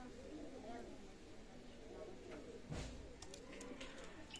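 Pigeons of a golden teddy breed coo softly and steadily in a loft, with someone talking over them throughout and a brief louder knock partway through.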